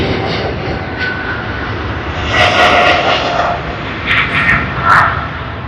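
An airliner's jet engines arriving at Sydney Airport, a broad sustained roar and whine that swells toward the middle and persists through the clip, heard from a distance outdoors.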